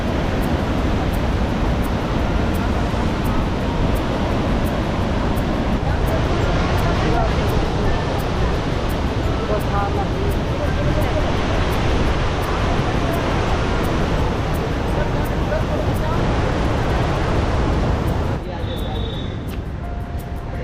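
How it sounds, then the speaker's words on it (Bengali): Water roars continuously at the artificial waterfall below Patratu dam, a loud, steady broadband rush with no pauses throughout. "একদম একটা কৃত্রিম জলপ্রপাতের সৃষ্টি হয়েছে এখানে। এই দেখুন জলের ছিটে আসছে"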